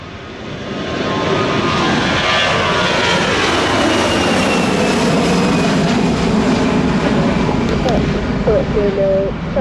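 easyJet airliner taking off from runway 27 at Gibraltar Airport, a loud, close, steady jet engine roar that swells and holds through the takeoff roll.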